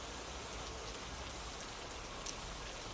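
Pouring rain at night falls steadily as a dense, even hiss of drops on hard surfaces, constant and fairly close with no voices.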